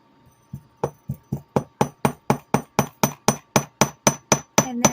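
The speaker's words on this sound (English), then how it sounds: "and then I'm going to hammer it like this" Jewelry wire gets hammered on a table edge: about sixteen sharp metallic taps in a steady, quickening rhythm, close and loud with no talking.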